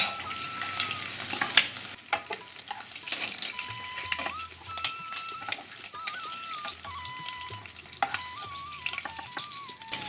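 Prawns fry Kerala style in a hot pan, giving a continuous close crackling sizzle with scattered pops and light stirring clinks, with no voices.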